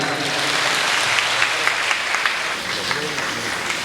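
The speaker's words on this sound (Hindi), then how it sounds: "ताली बजाओ।" Audience at a Hindi comic poetry gathering (hasya kavi sammelan) breaks into loud, dense applause right after a poem ends, a sustained wash of clapping lasting a few seconds.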